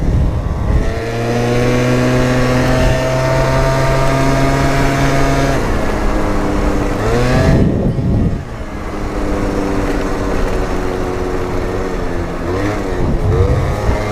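Yamaha Slider 70 scooter engine while riding, a loud continuous whine with steady tones that rise and fall as the throttle changes, with a short dip around midway before climbing again.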